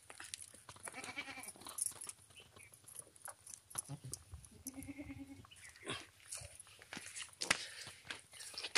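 A dairy goat kept for milking bleats in a farm setting, several nasal bleats rising over rustling, footsteps and chewing, fairly close, with occasional voices nearby.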